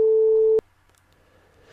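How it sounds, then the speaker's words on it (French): A struck tuning fork gives a steady, pure, loud tone that stops sharply after about half a second, leaving near silence. "le diapason émet un son."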